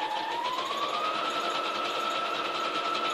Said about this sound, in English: I love this sewing machine. This is a good sewing machine.